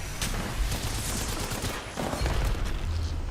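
Rapid, overlapping gunfire in an Apex Legends tournament match, sustained bursts with heavier thuds mixed in, loud and continuous throughout.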